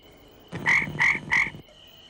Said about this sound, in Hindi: अरे ये मेंढक की आवाज कहाँ से आ रही है?